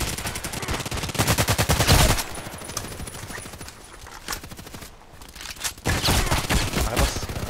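Rapid bursts of gunfire from a low-capacity weapon in the online shooter Contract Wars, loud and continuous with short pauses between volleys and no talking.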